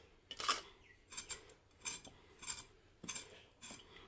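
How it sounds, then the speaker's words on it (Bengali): A knife slices potatoes for a tilapia vegetable kaliya, giving a steady run of about seven light, crisp cuts and taps close by, with no talk. "আলু কেটে নেব।"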